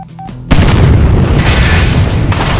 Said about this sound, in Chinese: 随着爆炸声响起，整个仁川海关顿时乱作一团